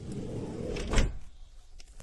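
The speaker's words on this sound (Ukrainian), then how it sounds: "Ось все дуже-дуже чітко двері працюють." A Volkswagen Transporter T5 door slides and shuts close by, a smooth rolling rumble building to a solid thud near the middle, then a quiet tail with light clicks.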